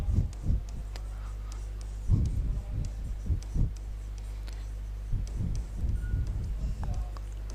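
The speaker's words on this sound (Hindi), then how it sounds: "तो मैं एक क्वेश्चन यहाँ पे लिखता हूँ" Chalk or marker writing a maths question on a classroom board, a series of short scratchy taps and strokes in irregular bursts, close and distinct over a low steady room hum.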